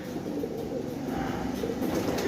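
Madrasi pigeons held for sale in Kolkata coo softly and continuously, a low murmuring burble at close range, with no voices over it.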